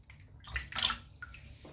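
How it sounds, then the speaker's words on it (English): Water splashes in short bursts as a man wets his head with his hands before a head shave, a few close, separate sloshes and drips with brief quiet gaps and no talking. "I'm just going to wet my head."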